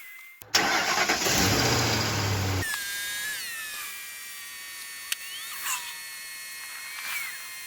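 A broken-down TC30 is jump-started: the starter cranks for about two seconds, the engine catches, then settles into a quieter, steady idle with a few faint knocks and no talking.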